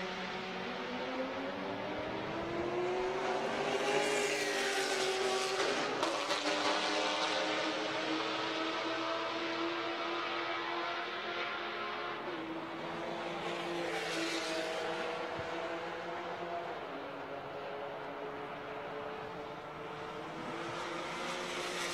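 A Life Motorsport time attack race car laps Circuit of the Americas, its engine note heard from a distance, rising and falling through gear changes as it passes, faint but continuous with no talk.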